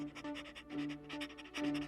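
A cartoon dog pants in quick, rhythmic breaths, close and fairly quiet, alone without talk.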